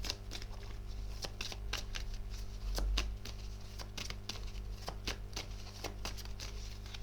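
Tarot cards being shuffled, a dense run of crisp riffling clicks and flutters at close range, with a steady low hum underneath and no talking.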